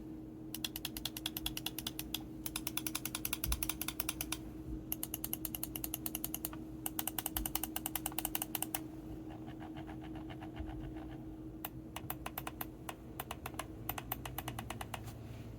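Crisp, rapid mouse button clicks from a Razer DeathAdder V3 Pro, heard alone in dense bursts of sharp ticks with short pauses between runs, close and fairly quiet over a steady low hum.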